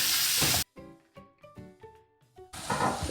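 Chicken and banana stem fry in a pan, with loud hissing bursts at the start and end and quieter clinks and scrapes of stirring in between.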